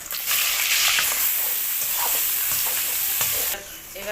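Chopped onion frying in hot oil in a wok with spices, a loud, close, bright sizzle that holds steady and has light stirring scrapes through it, then drops a little near the end.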